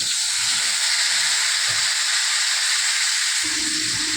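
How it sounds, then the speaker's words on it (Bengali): Hot oil sizzles and hisses loudly and steadily as small pieces of papaya fry, the sound shifting slightly near the end as more papaya goes into the pan. "ওই তেলের ভিতরে দেখো আমি পেঁপে ছোট করে কেটে ধুয়ে নিয়েছি, এখন আমি এটা দেব।"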